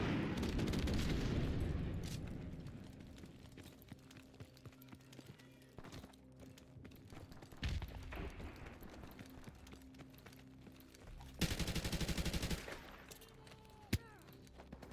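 Gunfire in the video game Call of Duty: Modern Warfare Remastered, quiet overall, with scattered shots and bursts over game sounds and a louder stretch near the end.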